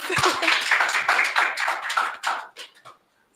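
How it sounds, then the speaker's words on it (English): An audience at a startup-week fireside chat in Lusaka bursts into applause: a dense burst of clapping that thins into a few scattered claps and fades to quiet near the end. "A round of applause."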